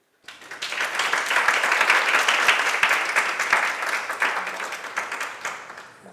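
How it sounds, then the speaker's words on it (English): An audience at a salon talk applauds to welcome two speakers, a sustained burst of many hands clapping, loud and even, that slowly thins and fades toward the end. "So please welcome Henry and Jenny with a big applause."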